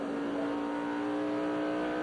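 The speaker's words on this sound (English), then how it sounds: "you want to see what a car looks like going around here on his way to victory?" NASCAR Busch Series race car lapping New Hampshire International Speedway in 2000, a steady sustained engine drone with a strong high whine, loud and continuous throughout with no talking.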